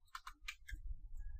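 Rapid keystrokes on a computer keyboard entering an MSF console command in Kali Linux, a quick burst of four or five crisp clicks followed by a low hum.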